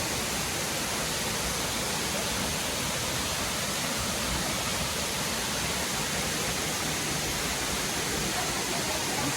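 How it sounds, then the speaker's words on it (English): Edith Falls pours in a dense, steady roar of falling water, close and loud, with no break for the whole stretch. "Here's another view of the falls."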